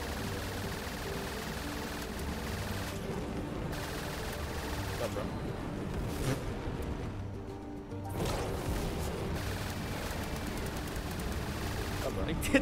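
Gunfire from weapons in the vehicle-building game Trailmakers, a dense, continuous clatter of shots and impacts running through the whole stretch over steady engine-like drone and game noise, with a brief dip near the middle.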